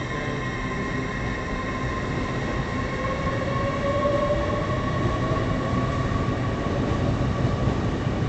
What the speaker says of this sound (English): And away it goes, which is now the final train of the day.